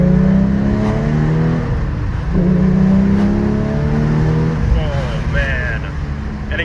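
A Porsche 992 GT3 engine pulls hard from inside the car, rising in pitch through the revs, with a shift break and another climb, then easing off, loud and close, with a voice over it.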